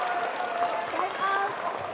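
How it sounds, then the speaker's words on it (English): Fans at a table tennis match fill the hall with a steady wash of cheering and chanting, with younger voices calling out a player's name and a commentator speaking over the crowd. "you can hear some of the younger fans as well, delighted at seeing this, chanting out one name or the other"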